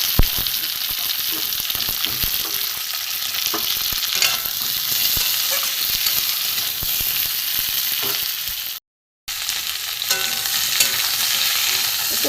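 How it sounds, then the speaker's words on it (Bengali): Pointed gourd and potato fry with onion in a pan, giving a loud, constant sizzle broken by stirring scrapes, with one brief silent gap partway through. "পটলটা এর সাথে আমি ভেজে নেব।"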